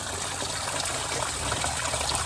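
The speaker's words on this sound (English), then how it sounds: "The water makes its way down here." Steady broadband rush of water flowing through a backyard drainage system toward a float-operated pump station fed by downspouts and a French drain, continuous and moderately loud with no talk.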